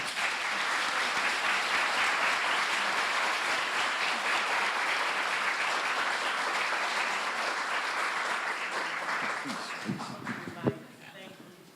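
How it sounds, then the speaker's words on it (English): A lecture audience at a talk on confronting Islamophobia gives a long, dense round of applause that holds steady and then fades out near the end, with faint voices at the tail. "let's give a round of applause for that"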